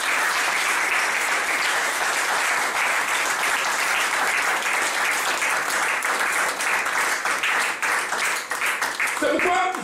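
A church congregation applauds the Lord, a dense, loud, sustained wash of clapping from many hands that carries through to the end, where a voice briefly cuts in.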